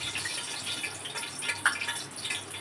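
Water splashing and dripping from a tap in a home kitchen while oil spits nearby, a steady wet patter with a few brighter drips, fairly close and without voices.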